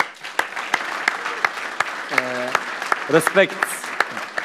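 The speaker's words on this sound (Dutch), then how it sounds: "Dat verdient een applaus." Applause from an audience at an interview, a burst of clapping that runs steadily through the whole stretch while someone speaks over it, fairly close and moderately loud.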